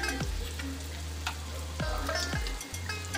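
Kerala-style unniyappam fry in oil in a pan, giving a dense, continuous sizzle with crackling bubbles and a few soft knocks from turning them, close and steady with a low hum underneath.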